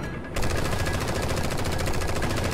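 Machine gun fire in the video game Strain Tactics, a sustained rapid burst of loud, close gunfire that starts abruptly and rattles on without pause.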